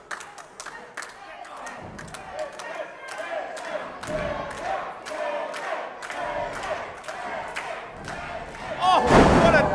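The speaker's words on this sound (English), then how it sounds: "Oh, what a drop kick." A live wrestling match in Harlow, with repeated thuds and slams from the ring under constant crowd noise and commentary. A heavier impact and crowd surge follow near the end as a drop kick lands.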